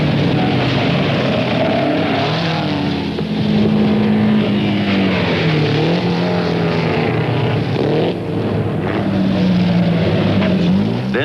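Early 1900s Peugeot race cars, with a Delage among them, thunder past in a motor race, a steady loud engine roar with shifting pitch and wind buffeting, continuous throughout without talk.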